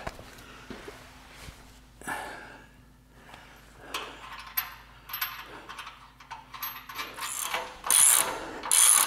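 Captured washer nuts are ratcheted tight onto clevis brackets of a Ford Performance winch bumper on a Bronco, a series of close, uneven ratchet clicks and metallic handling sounds in bursts, growing louder toward the end.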